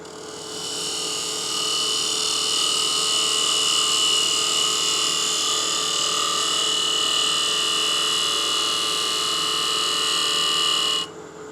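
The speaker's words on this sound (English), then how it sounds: "do a nice slicing cut down to the revolving center to clean up those end grain fibers" A wooden salt and pepper mill body spins on a lathe while a tool takes a slicing cut toward the revolving center, producing a steady loud whirring hum that cuts off abruptly near the end.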